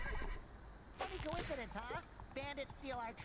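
A cartoon horse whinnies twice in a SpongeBob SquarePants video game. The two shrill, quavering neighs sit close and loud, with a short gap between them.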